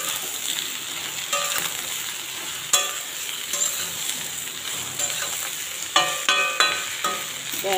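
Sliced ridge gourd fries in a pan alongside potatoes, a continuous close sizzle broken by sharp scrapes and clinks of a spatula stirring, several quick strokes clustered near the end.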